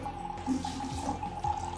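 Water at 7.5 pH flowing steadily from an alkaline water machine, a constant close stream with a faint tonal hum running underneath.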